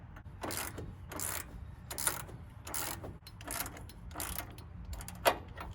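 Wrench loosening the sway bar end link nut on a 2016 RAM 1500 4x4 pickup, with repeated ratcheting bursts in an irregular rhythm, moderately close and fairly quiet, with no talk.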